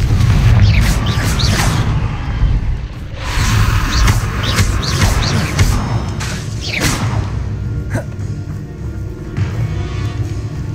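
Hogwarts Legacy combat, with repeated booming Confringo blast explosions and whooshing spell sounds over a deep rumbling game score, several loud impacts in succession.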